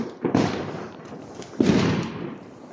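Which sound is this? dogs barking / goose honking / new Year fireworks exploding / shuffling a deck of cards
new Year fireworks exploding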